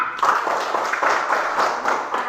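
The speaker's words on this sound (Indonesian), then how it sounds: "tepuk tangan untuk kita." A group of pupils in a classroom claps along in a brisk, rhythmic burst, many hands patting in a loose repeating beat at close range, with some voices mixed in.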